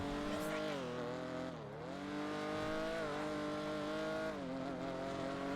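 A car driving in the GTA video game, its engine note rising and falling with revs and gear shifts for several seconds, fairly quiet and without talk.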